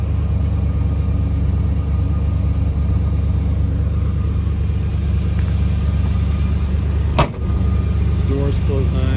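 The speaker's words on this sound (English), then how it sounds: "Doors close nice." A 1978 Ford F150 Custom pickup's door shuts with one solid, loud thud late in the clip, over a steady, low engine rumble that runs throughout.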